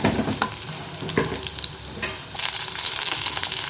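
Green chillies sautéing in a hot pan for carrot poriyal, a close, steady sizzle and crackle with frequent scraping stirs, growing brighter and hissier in the second half.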